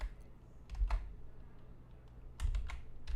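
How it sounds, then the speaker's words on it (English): Computer keys clack in two quick bursts of typing, close and quiet, separated by a short pause with only faint room hum. "I'm just pre-typing this out for the members in our Discord"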